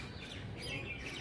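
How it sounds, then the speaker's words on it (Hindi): Birds chirp softly around a rooftop home garden in the evening, a few faint high tweets over quiet background hiss in a brief moment. "आप देखिए, चिड़ियों की चहचहाहट सुनाई देगी"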